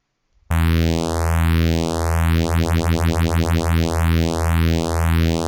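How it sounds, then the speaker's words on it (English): A sustained frequency-shifted synth bass drone with a wobbling, phasing shimmer sweeping through it, loud and continuous, the movement speeding up midway then slowing again. "I'm gonna call it the frequency shifter bass."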